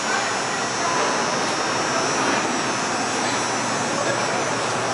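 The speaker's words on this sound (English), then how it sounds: "This is an elevator at the BWI rail station. Let's take it for a ride." A holeless hydraulic elevator at the BWI rail station running, giving a loud, steady broadband hum and whoosh that holds level from start to finish.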